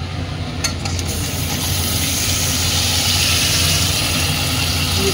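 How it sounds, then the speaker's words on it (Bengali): Marinated chicken dropped into a hot wok bursts into a loud, steady frying sizzle that swells and holds, with a brief clatter at the start. "এই দেখো ম্যারিনেট করা চিকেনটা এবার কড়াইতে দিয়ে দেবে তোমরা।"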